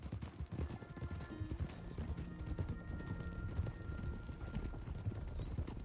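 Horses' hooves clip-clop steadily in the RedM video game, several animals walking together in a dense, continuous patter over a low background hum.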